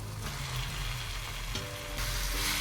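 Peeled prawns sizzle in a pan of onion-tomato masala for a Tamil prawn thokku, a steady close hiss that brightens slightly near the end, with no talking.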